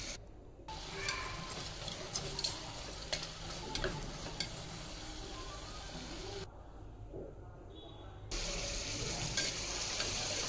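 Mixed vegetables with peas and soya chunks sauté in a hot pan for vegetable biryani, giving a steady close sizzle with stirring scrapes, briefly dropping away mid-clip before returning louder.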